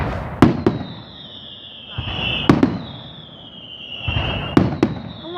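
Fireworks bursting over a park at night, three big booming explosions each followed by crackles and a long whistling trail, spaced about two seconds apart, loud and fairly close with faint voices nearby.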